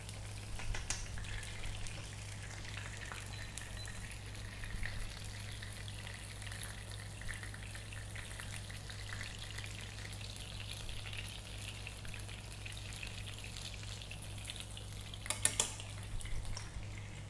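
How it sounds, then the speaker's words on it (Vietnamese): Korean-style pancake batter fries in a pan during a chef's cooking demonstration, a steady, close sizzle and crackle that continues for the whole stretch beside a low background hum. "đây mình chiên hết cái mẻ thôi là xong"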